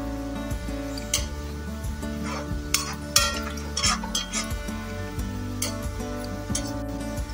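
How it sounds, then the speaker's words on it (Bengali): Shredded potatoes deep-frying in oil, a continuous bubbling sizzle under a low steady hum, punctuated by scattered clinks and scrapes of a utensil against the pan. "আলুটা আমার আস্তে আস্তে ভাজা হয়ে যাচ্ছে, এই দেখো আস্তে আস্তে ফুল হচ্ছে, উপর থেকে ফুসে উঠছে।"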